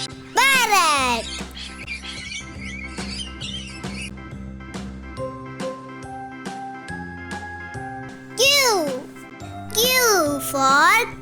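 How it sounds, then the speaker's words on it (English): A cartoonish parrot squawks in two bursts of rising and falling cries, once early and again near the end, over a bouncy children's alphabet song with music playing throughout. "Parrot."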